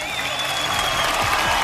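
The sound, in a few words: audience applause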